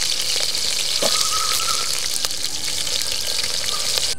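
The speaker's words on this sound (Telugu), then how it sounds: "ఉల్లిగడ్డ వేసుకున్నాము, మాడిపోకుండా కలుపుకోవాలి." Onions frying with a steady loud sizzle in a pan for an Andhra sour chicken curry with green chillies, stirred now and then with a brief scrape, no voices.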